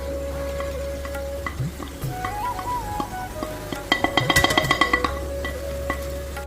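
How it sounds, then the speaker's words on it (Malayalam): A spoon stirring thick masala paste for beef curry in a frying pan, soft scraping and bubbling sizzle under a low steady hum, with a cluster of quick clinking scrapes near the end. "നന്നായിട്ട് ഇളക്കട്ടോ, പേസ്റ്റ് രൂപത്തിലായിട്ടുണ്ട്"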